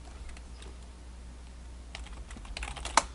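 Soft, scattered taps on a computer keyboard while playing an online game, quiet and intermittent, ending in one sharper key press.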